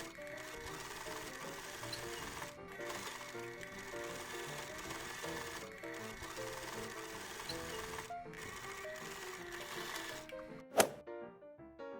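A sewing machine top stitching a seam on a baby romper, running in a steady rapid rhythm for several seconds with brief pauses, then stopping with a sharp click.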